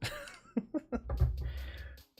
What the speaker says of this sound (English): why couldn't I clear my throat before I started talking?